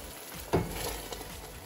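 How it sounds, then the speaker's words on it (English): Onions and garlic sizzle in a pan as they brown, a steady close-up fry with one brief stir or clatter. "onions are looking good. Our garlic's just starting to brown."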